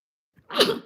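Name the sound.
sneeze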